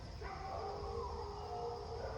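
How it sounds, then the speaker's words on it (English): Several neighborhood dogs howl together outdoors at a distance, long wavering howls overlapping in a faint sustained chorus. "I think one dog barked and then they all the dogs around decided to bark and howl at each other"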